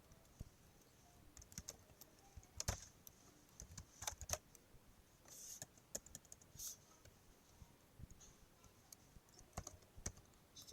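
Names are typed into an Excel spreadsheet on a computer keyboard, with irregular clusters of close, faint key clicks and a few louder taps over a quiet room background, with no speech.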